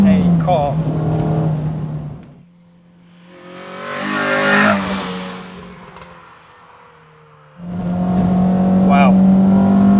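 Renault Clio 172 Cup with a stock engine pulling hard under acceleration, its note rising and falling in two loud surges separated by quieter gaps, with a voice talking over the start and end.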